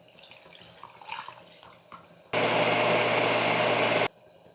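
Faint clinks and small movements, then a steady rush of running water from a tap for about two seconds, poured over soaked grains for rinsing, that stops abruptly.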